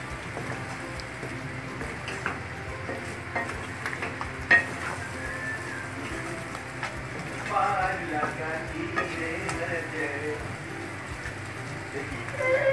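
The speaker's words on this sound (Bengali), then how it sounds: "এবার আমি চিকেনগুলো এর মধ্যে দিয়ে দিচ্ছি। ভালো করে মিশিয়ে নিতে হবে।" Chicken pieces sizzle in a pan for a Bengali chicken roast while being stirred, with soft crackling, a few scraping knocks of the spoon, and a louder sizzle toward the end.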